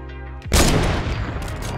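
Sniper rifle shot in a Fortnite battle, one sharp loud boom after a short lull, followed by a long rolling echo that decays slowly.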